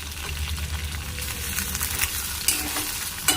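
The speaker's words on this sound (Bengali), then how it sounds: "একটু হালকা ভেজে নেব" Tomato lightly frying in a pan as it is stirred, a soft continuous sizzle with scraping stir strokes and a couple of sharper clicks of the utensil, with a low hum beneath.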